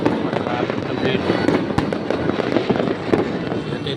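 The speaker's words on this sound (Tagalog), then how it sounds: "Ito, paputok sila." Fireworks and firecrackers exploding on New Year's Eve, a dense continuous crackle of bangs and pops at close to mid range, with people talking over the din.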